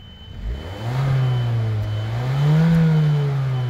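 A four-cylinder turbocharged engine in a 2019 Suzuki Vitara revs up close, its low drone climbing in pitch, easing slightly, then rising again with a steady mechanical hum.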